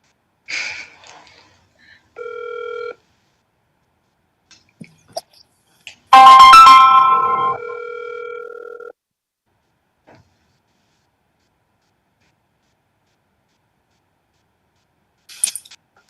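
A phone call placed on speakerphone during a city council meeting: short electronic tones, then a longer ringing tone that fades out. Isolated clicks follow in a quiet room.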